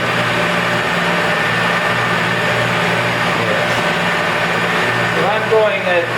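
A Felder Profil 45 Format4 shaper spins a 60 mm Schleiffix sander attachment with 60 grit at about 3,500 RPM, giving a steady, loud mechanical whir with an even hum throughout.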